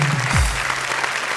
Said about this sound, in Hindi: कविता समाप्त हो गई है, तालियां बजाइए।